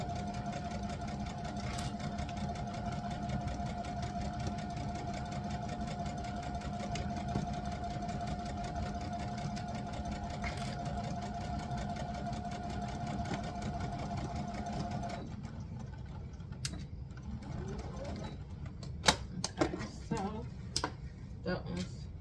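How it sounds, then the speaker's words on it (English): A sewing machine runs steadily for about fifteen seconds stitching pockets down with forward and backward stitching, a close mechanical whir, then stops, leaving a few scattered clicks and handling noises. "I'm gonna go ahead and stitch our pockets down 3/8 of an inch seam allowance, and yeah, forward and backward stitch"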